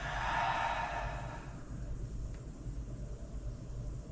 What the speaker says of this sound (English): Open mouth, exhale, release.